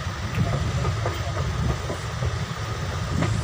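Passenger train travelling through hill country toward Haflong in Assam, a close, loud rumble of carriages with a low rolling drone and faint rhythmic rail clatter throughout.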